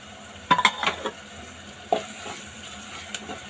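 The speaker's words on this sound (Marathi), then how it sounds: "त्यामध्ये 1 चमचा आलं लसूण पेस्ट टाकू।" Ginger-garlic paste frying with spices in a pan, a steady soft sizzle broken by a few sharp clinks and scrapes of a spoon stirring against the metal, close and fairly quiet, with no voices.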